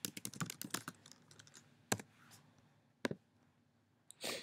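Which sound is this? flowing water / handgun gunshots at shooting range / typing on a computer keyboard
typing on a computer keyboard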